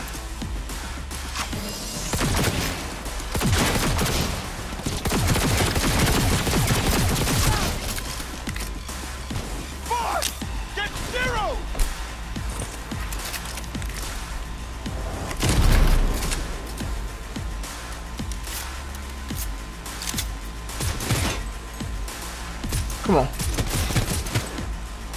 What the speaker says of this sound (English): Look how this gun shoot through walls.